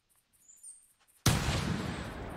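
A single loud .308 rifle shot fired at a feral hog in the hunting game The Hunter breaks a near-silent stretch with faint bird chirps, then rolls out into a long, heavy echoing decay.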